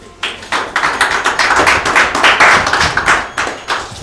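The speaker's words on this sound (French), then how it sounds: "Sans toutefois tarder, nous allons les applaudir très fort." Guests at a Congolese civil wedding ceremony clap loudly for the couple, a dense, steady run of rhythmic handclaps that starts abruptly and carries on close by, with no talk over it.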